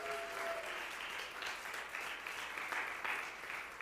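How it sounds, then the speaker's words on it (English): Audience applause for a spoken word performer named Maya at an MLK series event, a steady wash of many hands clapping that fills the whole stretch without a break, moderately loud with no voices over it. "Can we give her another round of applause?"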